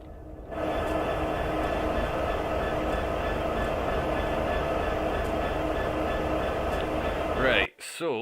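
A heavy ethanol freight train of about 107 wagons and nearly 12,000 tonnes rumbles steadily downhill, a loud continuous roar of wheels and wagons with a grinding, whining edge that cuts off abruptly near the end.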